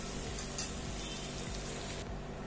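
Jackfruit vegetables frying in a pan while being stirred, a steady dense sizzle with soft scraping strokes underneath, moderately quiet and continuous.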